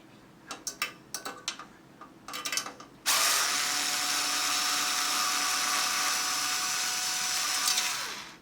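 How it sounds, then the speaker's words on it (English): A hand tool removes screws from an FM601 steamer: several quick ratcheting clicks in short bursts, then a loud continuous whirring drive that runs for several seconds before stopping, close and clear. "I've got this cool tool that allows me to reach down and easily remove the 3 bolts, or 3 screws."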